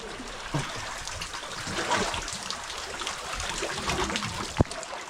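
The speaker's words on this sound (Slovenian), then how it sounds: "Evo, takole pa zdaj teče topla voda." Warm spring water flows and trickles into the sea at the shoreline beside travertine, a steady close wash of running water with a brief sharp splash near the end.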